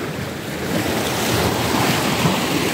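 Rough, choppy sea surf washes steadily against a small rocky cape near the shore, a continuous broadband roar of breaking waves with gusting wind buffeting the microphone and no voices.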